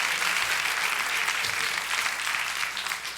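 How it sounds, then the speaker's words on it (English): Packed lecture hall audience in Askwith Hall applauding, a thick, even wash of many hands clapping at once, sustained and fairly loud with no talking. "Give yourselves a round of applause for being here."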